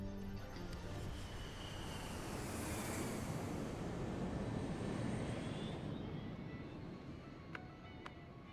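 A steady airplane engine drone fills a Tekken 8 cutscene, loud and continuous with a rushing roar, and a couple of faint clicks toward the end.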